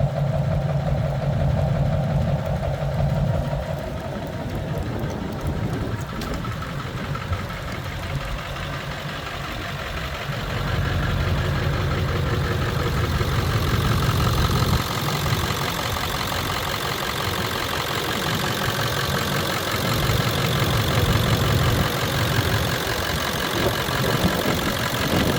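A 1999 Ford F-350 Super Duty 4x4 XLT truck engine idles steadily outdoors on a windy day, a continuous low rumble with wind noise mixed in throughout and no talking.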